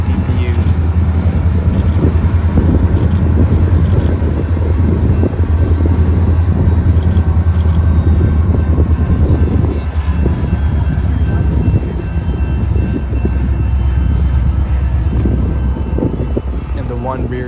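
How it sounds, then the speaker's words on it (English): A Union Pacific unit grain train on BNSF trackage rights passes with three mid-train DPU locomotives. It makes a loud, steady, close roar of diesel engines and rolling cars that holds for the whole stretch. "We arrive just as a Union Pacific unit grain train is entering BNSF trackage rights."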